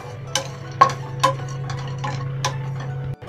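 Dry fruits roasting in a pan over a medium flame, with a utensil stirring and tapping against the pan in several sharp clicks over a low steady hum, close by and with no talking.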